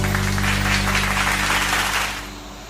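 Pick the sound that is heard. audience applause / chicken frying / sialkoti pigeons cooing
audience applause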